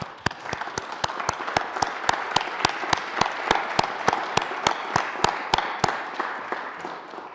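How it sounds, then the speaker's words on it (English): A chamber full of people in the Colorado Senate breaks into sustained applause, a dense wash of clapping with a few sharp, regular claps standing out near the mic before it tapers off. "could we stand and give them a moment of applause and appreciation?"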